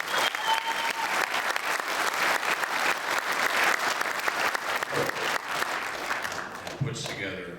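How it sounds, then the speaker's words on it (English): Sustained applause from an audience at a dance show, a dense steady wash of many hands clapping that carries on for several seconds before thinning out at the end. "I think we all owe Bud a really big round of applause"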